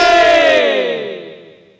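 A crowd at a Ram Manas devotional gathering in Kanker, Chhattisgarh, shouts a loud, sustained unison cry in praise of Rama that holds and then fades out over about two seconds.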